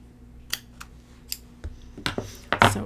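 Scissors cut through planner paper in a few crisp, close snips, with quicker, louder cuts near the end.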